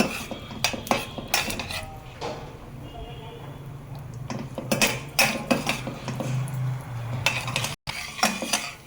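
Cashews, urad dal and chana dal fry in a pan for a rava idli tempering, with metal utensils clinking and scraping against the pan in irregular bursts over a soft sizzle and a muffled voice.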